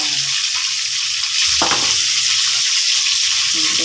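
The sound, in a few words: sautéing garlic and onion for adobo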